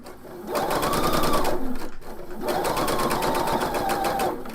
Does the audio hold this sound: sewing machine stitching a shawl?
yes